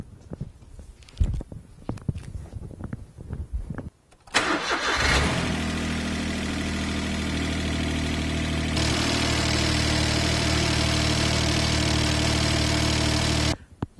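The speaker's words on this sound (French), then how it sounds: "nous allons faire un test de démarrage. Je vais à l'intérieur de la voiture et tourner le contact." After a spark plug change, a Smart Fortwo's engine cranks and catches following a few clicks and rustles, then idles steadily and evenly at close range for about ten seconds before shutting off.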